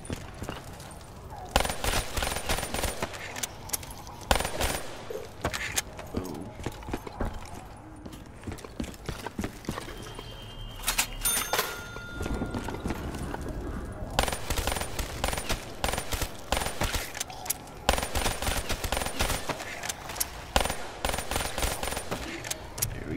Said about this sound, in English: If we shoot these, it should blow up.